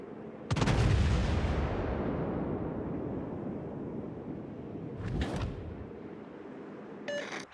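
Naval artillery salvo in World of Warships, a loud booming blast that rolls into a long rumbling decay, followed by a second, smaller report and a faint electronic chirp near the end.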